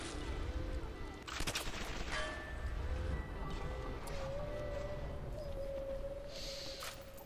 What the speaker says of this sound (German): Ganz schön Granaten verschwendet.